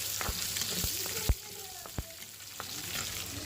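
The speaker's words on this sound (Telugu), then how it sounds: "ఆనియన్స్ కూడా వేసేసుకొని ఫ్రై చేసేసుకున్నాం." Onions frying in a pan with a steady soft sizzle, broken by a few sharp clicks and knocks from utensils against the pan.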